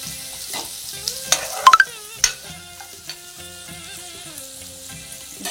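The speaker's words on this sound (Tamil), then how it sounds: "சும்மா அந்த ஃப்ளேவருக்கு ஒரு 2 கருவேப்பிலை போட்டு எல்லாம் நல்லா பொன்னிறமாக வதங்கிட்டோம்" Onions and a couple of curry leaves sauté to golden brown for vadakari, giving a low sizzle close by with several sharp clinks and scrapes of a spoon against the pan.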